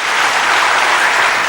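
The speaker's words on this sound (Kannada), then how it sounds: "ಚಪ್ಪಾಳೆ ದೊಡ್ಡದಾಗಿ ಕೊಟ್ಬಿಡಿ ನೀವೆಲ್ಲ" An audience applauds a Canara Bank singing troupe being welcomed onstage at a music event, a dense, loud, steady wash of many hands clapping with no talk over it.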